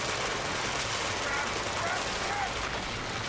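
Continuous rattling gunfire from an Uncharted 2 firefight forms a dense, steady wash of shots at moderate volume, with voices talking over it.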